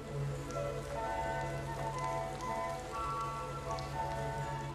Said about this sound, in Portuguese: Até a chuva, mano, dá pra ouvir.